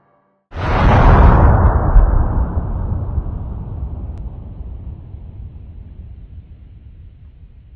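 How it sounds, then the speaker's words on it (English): A massive explosion at an industrial plant bursts in suddenly with a heavy, broadband roar, then rumbles and slowly decays over several seconds, loud and alone. "a massive explosion and subsequent fire rocked the plant"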